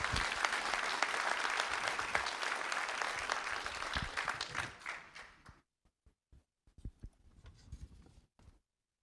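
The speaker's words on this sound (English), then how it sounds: "Let's give a big round of applause to Judge Van Stavern." Audience applause for Judge Van Stavern, Justice of the Peace Precinct 1, at a school district board of trustees meeting, a dense steady clapping that thins into scattered last claps and fades out after about five seconds.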